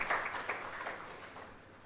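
An audience at the ceremony for a genomic medicine building gives a brief round of applause, faint and distant, that fades out over about two seconds.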